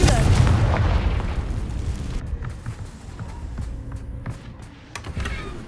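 Confringo fire-blast spell cast in Hogwarts Legacy on PS5 inside an old castle, a single heavy boom at the start that rolls off into a fading rumble with scattered small crackles after.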